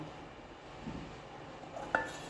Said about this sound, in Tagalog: iprito natin. Prito natin konti.